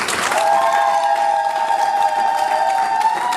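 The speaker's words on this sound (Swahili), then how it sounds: "Tuwashangilie kwa makofi mengi mengi." A church congregation at a Moravian service breaks into sustained applause, a steady wash of many hands clapping together that carries on at full strength from start to finish.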